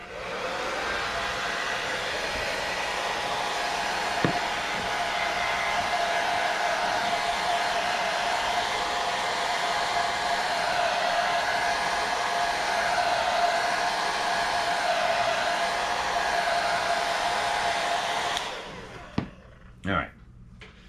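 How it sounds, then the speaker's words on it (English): Hairdryer blowing steadily and loudly to dry a painted model panel, a continuous close whoosh lasting most of the time before it switches off, followed by a few small handling knocks. "I'm going to get the hairdryer here."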